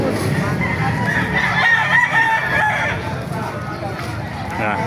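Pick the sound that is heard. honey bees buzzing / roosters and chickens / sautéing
roosters and chickens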